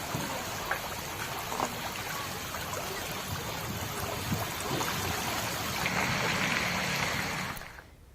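Floodwater rushing across the main road from Balthar to Narkatiaganj in Bihar, a steady broadband wash of flowing water that holds constant and close for about seven seconds before cutting off abruptly.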